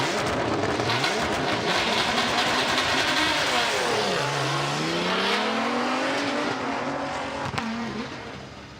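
Rally car on a narrow forest stage at a festival event, launching hard off the start line with a loud rising engine roar that climbs through the gears, close up and receding slightly at the end.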